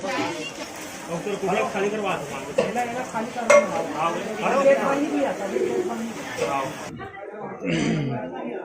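Chicken stirred in a sizzling frying pan, with scraping and clattering of utensil against metal over continuous frying hiss, while people chatter nearby.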